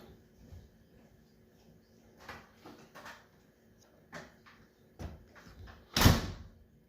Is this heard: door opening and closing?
yes